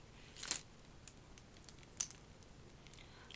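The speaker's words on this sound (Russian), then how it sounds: "Еще там есть одно большое отделение и два маленьких. Они рассчитаны, наверное, под телефоны. Но в одном я храню ключи." Keys being taken from a small compartment of a handbag, a short loud metallic jangle followed by several lighter clinks and taps, close and quiet with no talk.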